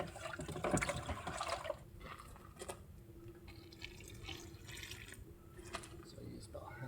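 About a quart of water is poured into tile mortar mix in a bucket for a shower tiling job, a close splashing pour at first that settles into quieter trickling and dripping.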